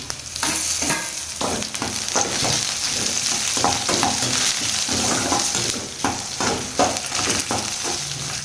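Cumin, fennel, coriander seeds and pepper dry roasting in a pan, with continuous scraping stirs and a light crackling sizzle, close and steady, no voices.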